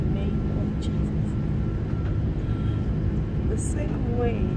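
An airplane in flight with a steady, broadband engine drone that fills the whole stretch, constant and fairly loud, with faint voices and brief high chirps over it.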